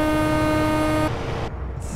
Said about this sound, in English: I need to get a better horn in this thing. I mean, it doesn't sound bad. It's funny sounding.